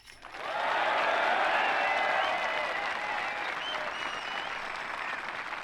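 Crowd at the disc golf World Championships MPO chase final applauding and cheering, a loud sustained roar of clapping and shouts that swells quickly and holds steady throughout.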